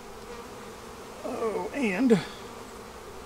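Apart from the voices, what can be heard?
honey bees buzzing in a beehive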